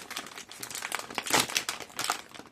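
Crinkly plastic wrapping of a Disney mystery package crackles and crumples as it is torn open from the side, a dense run of close, bright crinkles that swells into a louder rustle midway.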